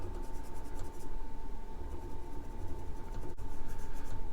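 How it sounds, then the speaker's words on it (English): A pencil draws a line on a pipe during a kitchen sink plumbing job. The lead scratches steadily for a few seconds at close range over a low background hum. "I'll just put a pencil line on there"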